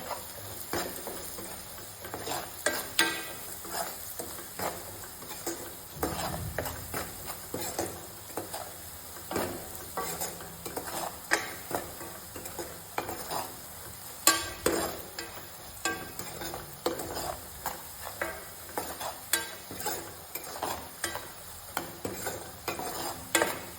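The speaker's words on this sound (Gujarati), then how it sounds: "આ રીતે આપણે થોડી વાર હલાવતા રહેશું" Spiced mixture with turmeric, coriander-cumin and chili powder stirred in a hot pan for Surati Mysore bhaji, repeated scraping strokes of a spoon over a low sizzle, steady and close.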